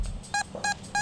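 A metal detector rings on a buried target at an 1800s house cellar site, giving three short, clean electronic tones in an even rhythm over a quiet outdoor background.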